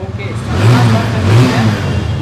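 A used 2020-model motorcycle with only 1,700 km on it and ABS idles and revs up in a steady, loud mid-range drone that swells twice, heard close by at a second-hand bike sale.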